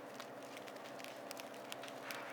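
Freshly baked bread crust crackles close up, with faint scattered tiny pops and ticks over a quiet background hum.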